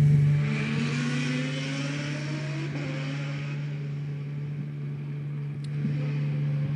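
A Formula 3 race car at the Macau Grand Prix practice session, stalled and attempting a three-point turn, heard as a steady low engine drone with faint rising revs over the background.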